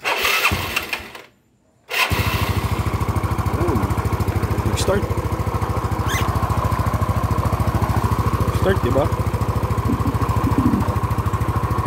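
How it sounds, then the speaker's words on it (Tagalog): A motorcycle engine starts after a short silence and settles into a steady, loud idle as it warms up, its even rumble running continuously for about ten seconds. "Papainit din ako ng motor ngayon. So, start na natin."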